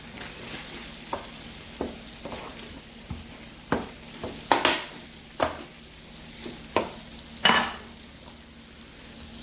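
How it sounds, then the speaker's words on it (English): Cubes of eggplant drop into a simmering sauce in a series of soft wet plops and clinks, about ten separate hits over a quiet sizzle, close and unhurried. "I'm going to throw those cubes into the sauce here."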